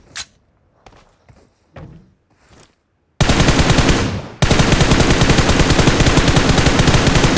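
Gunfire in the mobile battle royale game PUBG Mobile at close range: a few soft thuds and shots, then a loud, relentless burst of rapid automatic fire, a brief dip, and another long, continuous volley.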